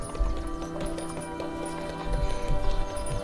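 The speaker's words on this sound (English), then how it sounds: "the horses panic and bolt, snapping the reins as they do so" Horses bolt in a panic, a rapid, continuous clatter of galloping hooves with a faint whinny mixed in, loud and close throughout.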